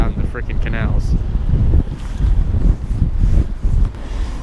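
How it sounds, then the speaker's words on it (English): Cold, gusty wind buffets the microphone beside the Amsterdam canals, a heavy low rumble that swells and eases, with brief faint sounds over it. "Just look at the wind out in the freaking canals."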